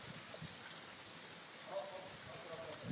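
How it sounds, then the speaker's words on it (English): Hard rain falls outdoors near a large water puddle, a steady dense patter with faint splashes and a light wash of background noise. "Still, it's raining hard."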